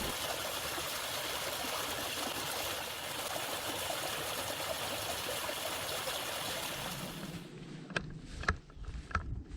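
A mountain stream near Mount Hood on the Pacific Crest Trail: a continuous broadband rush of flowing water, steady for most of the time, then giving way to a few close clicks and knocks at the end.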